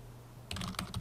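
Keys clatter on a computer keyboard during network configuration work in Packet Tracer, a short close burst of rapid typing that starts abruptly halfway through after a quiet hum.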